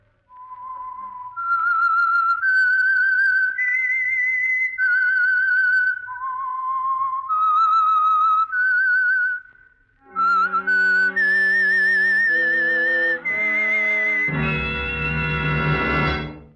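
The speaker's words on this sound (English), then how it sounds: "That whistle is your signal for the Signal Oil Program" A clear, loud whistled melody from a 1949 radio drama opening, one sustained tune of smooth rising and falling notes, with a brief pause midway before it resumes and swells at the end.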